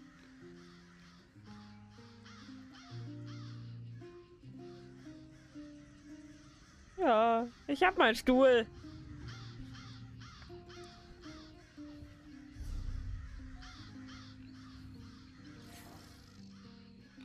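Raven cawing in the video game Elder Scrolls Online: a loud burst of several harsh caws in quick succession midway, over game music and ambience, with someone talking before and after.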